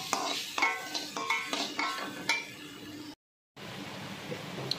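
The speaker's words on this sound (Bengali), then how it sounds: "নারকেলের সঙ্গে চিনিটাকে ভালো করে নাড়াচাড়া করে নিচ্ছি" Spoon scraping and stirring grated coconut with sugar in a metal pan, a few rhythmic strokes up close, then a brief gap before soft stirring resumes.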